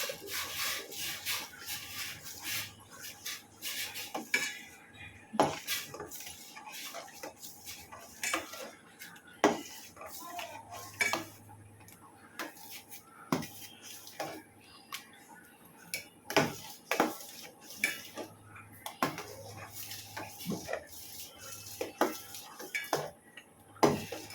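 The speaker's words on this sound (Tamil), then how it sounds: "ரவையை போட்டு கிண்டி விடணும், கட்டி இல்லாமல்" Semolina being stirred into boiling water in a pan for kesari, with frequent sharp spoon taps and scrapes against the metal over a soft, steady background bubbling, fairly quiet and close.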